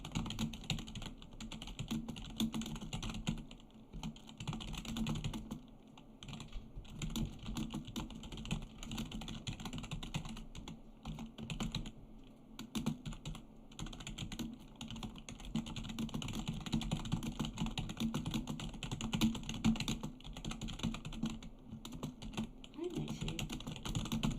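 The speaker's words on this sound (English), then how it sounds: "let's do a 1 minute typing test" Rapid, steady clicking of fingers typing on a computer keyboard during a one-minute typing test, continuous and fairly close throughout with small pauses, with faint background murmur but no clear talk.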